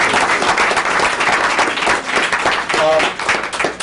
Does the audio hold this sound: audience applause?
yes